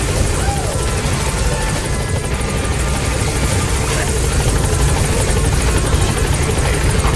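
Pequod helicopter hovering at a landing zone in Metal Gear Solid V, a loud continuous rotor thump and engine drone, close and steady throughout.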